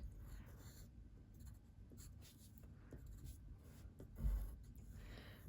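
Faint scratchy rubbing of a brush pen tip dragging across paper in modern calligraphy strokes, soft repeated strokes close by with one louder scrape near the end, no talking.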